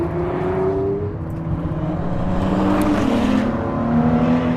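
Ford GT with the EcoBoost twin-turbo V6 shrieking at steady, loud throttle, heard from inside the cabin with the engine behind. The sustained drone has rising and falling tonal pitch and no talk over it.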